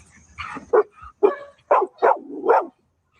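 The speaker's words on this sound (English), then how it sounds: "That was the other dog barking." A series of six or so distinct barks from a dog at moderate distance, spaced irregularly, with faint background noise and no talking.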